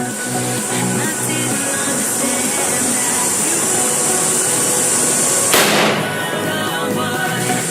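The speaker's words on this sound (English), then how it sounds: "308 armor penetrating incendiary rounds. Now that is nice. This should put a hurt on that lock." A rifle fires a .308 armor-piercing incendiary round at a heavy padlock, giving one sharp crack near the end over constant loud background noise.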